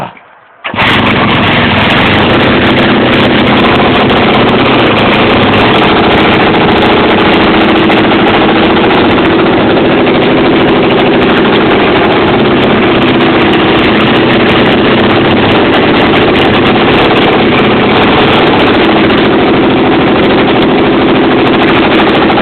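A small tiller engine starts and then runs loud and continuously at close range, rough and unsteady because the carburetor needs adjusting, with no talking.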